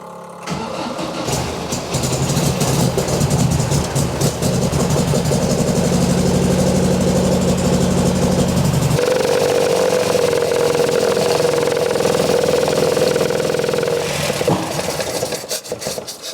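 Classic race car engine cranking, starting and running cold in a barn, a loud continuous rough roar with an uneven idle and sputtering from the exhaust and carburetor, shifting pitch midway.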